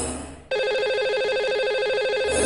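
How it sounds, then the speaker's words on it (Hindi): A telephone rings out steadily as a call is placed to a caller on a Hindi radio show, the regular ring tone loud and close after a brief quieter lead-in. "तो लगाते हैं इन्हें कॉल और करते हैं इनसे"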